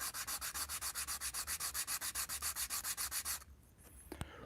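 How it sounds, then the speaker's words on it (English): Hand sanding on a car interior part: quick rhythmic back-and-forth strokes, about twenty in a steady run, close and fairly quiet, ending with a few faint knocks. "And then I could also sand that down."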